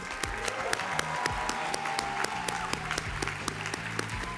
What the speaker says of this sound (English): Let's give another applause for those guys.